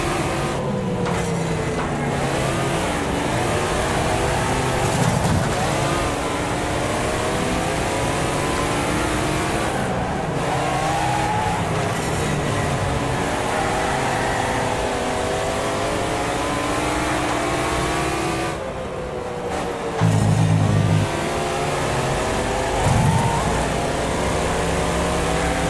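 Race cars from the Twilight Thunder class in the Wreckfest racing game drive continuously, their mid-pitched engines revving and shifting through gears at steady loud volume, with brief dips and bursts near the end.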